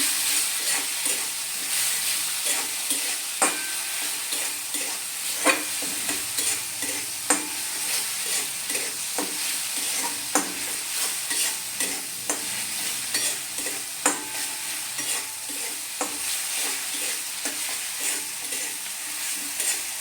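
Spices for a jackfruit curry are sautéed in a pan with a little water, a continuous soft sizzle broken by regular scraping strokes of a spoon as they are stirred, close up and with no talk.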